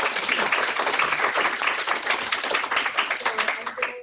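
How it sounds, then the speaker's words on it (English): Audience at a health policy talk on whole person care in California claps for the speakers, loud continuous applause from many hands that stays full and even throughout. "Is another round of applause for them,"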